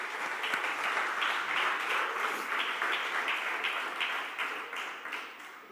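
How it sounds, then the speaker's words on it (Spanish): A church congregation applauds the Lord during a pastor's sermon: steady, dense clapping from many hands that holds for several seconds, then thins slightly toward the end. "Den un aplauso al Señor."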